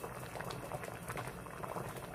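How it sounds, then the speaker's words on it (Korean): Beef and seaweed soup with sliced rice cakes boils in a pot, a steady close bubbling and popping that fills the whole stretch, with no voices. "저는 이제 이거를 조금 냄비에다 따로 떠서 떡국 넣고 끓일 거예요."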